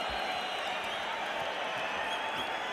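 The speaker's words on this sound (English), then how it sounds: "And now the crowd roaring even more" Boxing arena crowd at a Mike Tyson versus Steve Zouski fight, a steady, dense roar with scattered applause holding at an even level throughout.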